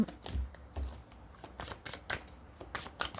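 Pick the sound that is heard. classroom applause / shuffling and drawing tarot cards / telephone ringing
shuffling and drawing tarot cards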